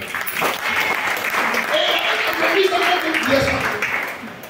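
Church congregation in a lively worship service applauding and cheering to acclaim the Lord, a steady wash of claps and voices filling the room, fairly loud and continuous, with some talk mixed in.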